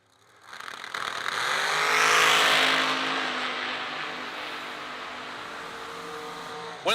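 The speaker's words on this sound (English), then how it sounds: "433 for the blower dragster of Cody Wiggins." A blower dragster launches at a drag strip, its engine rising into a loud, sustained roar that peaks about two seconds in and then holds steady as the car pulls away down the track, with a sharp burst at the very end.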